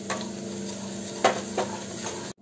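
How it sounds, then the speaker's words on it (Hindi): Semolina is stirred and roasted in melted ghee in a pan, giving a soft steady sizzle broken by a few clinking scrapes of a spoon against the pan. "घी मेल्ट हो गया है, अब इसमें हम सूजी डालकर इसको भून लेंगे।"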